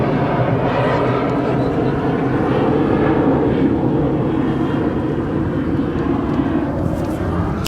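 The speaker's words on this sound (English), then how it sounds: "that Minneapolis flight is making the turn over there on the east side" An airliner turning on the east side of DFW airport produces a steady, moderately loud engine drone throughout, with faint talk in the background.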